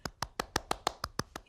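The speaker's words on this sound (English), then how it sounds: "I'm clapping my hands." Hand claps repeated ten times at a steady, brisk rhythm, crisp and close, during a children's sing-along with no talking in between.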